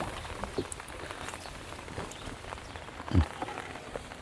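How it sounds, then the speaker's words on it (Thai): Steady rain patters on a surface throughout, with a soft hiss and a few louder drops, including one heavier thud near the end, on the Mekong River. "เพราะว่ามันฝนตก"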